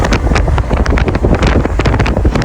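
Strong wind buffeting the microphone in loud, gusty rumbles, continuous and close with no voices.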